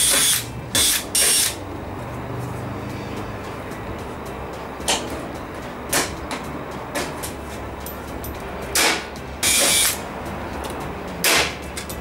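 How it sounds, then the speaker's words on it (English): A pop rivet gun sets rivets in a roof gutter nozzle, giving sharp, brief bursts, some paired, spread across a quiet background with low hum between them. "I'm just going to dry rivet it."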